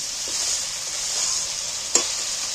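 A cooked-down masala of tomatoes and onion sizzles in oil, a constant high hiss close by, with one sharp scrape of a spoon near the end and no voices.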